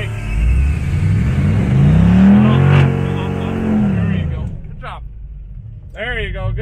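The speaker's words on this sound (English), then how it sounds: "hold your foot on the left and give it some gas until it starts spinning" A Gen V 5.3 V8 swapped into a Mazda RX2 revs hard and holds high while the rear wheels spin, loud and close, then the revs fall away. A voice speaks over it near the end.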